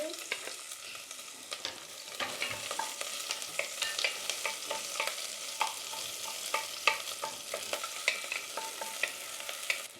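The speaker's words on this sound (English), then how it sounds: "Once it melts, we go in with our onions." Onions fry in melted clarified butter for turmeric chicken rice, crackling and spitting with many small irregular pops over a soft continuous sizzle, fairly quiet, without speech.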